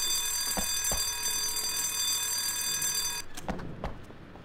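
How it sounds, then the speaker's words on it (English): A thief alarm triggered by a switch in the horror video game White Day rings as a loud, steady electronic tone that cuts off after about three seconds, followed by a few sharp clicks or knocks. "switch operates the thief alarm"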